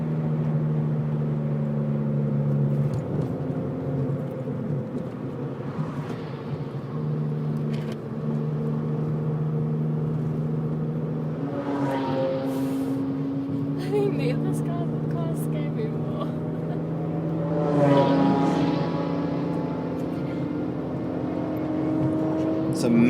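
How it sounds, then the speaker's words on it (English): Cars on the Nurburgring Nordschleife hum steadily at moderate distance, with a couple of louder passes swelling and fading as they go by. "Some amazing sounding cars going past there"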